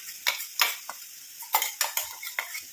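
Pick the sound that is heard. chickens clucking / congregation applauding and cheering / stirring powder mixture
stirring powder mixture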